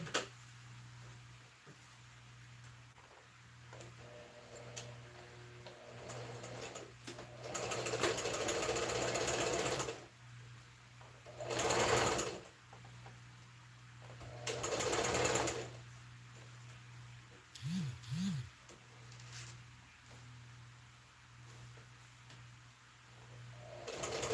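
A sewing machine stitches a shirt in several bursts of steady whirring, each a few seconds long, separated by quiet pauses and faint handling noise.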